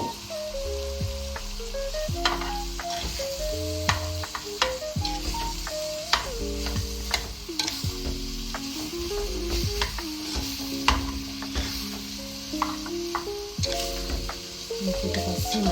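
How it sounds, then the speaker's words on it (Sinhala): Sausage meat fries for a ragù bolognese while being stirred, a continuous close sizzle overlaid by scraping and clattering from the utensil in the pan and steady background music. "ඊට පස්සේ මම කලවම් කරලා මේකත් ටිකක් හොඳට බැදෙන්න දෙන්න ඕනේ"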